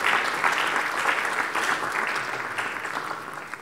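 An audience at a capital-market event in Takoradi claps for Reverend Ogbami Tete, a steady, full round of many hands clapping close and loud, fading slightly toward the end with no talk.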